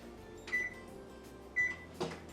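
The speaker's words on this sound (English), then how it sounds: "we're going to preheat our oven to" An oven control panel being set to preheat to 350 degrees for M&M chocolate chip cookies gives two short electronic beeps, followed by a soft click or tap, close and quiet.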